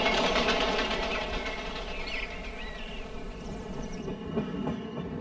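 An express train crosses Brunel's old bridge, a loud, steady rumble with rhythmic clickety-clack of wheels on rail joints that fills the whole stretch and eases slightly toward the end.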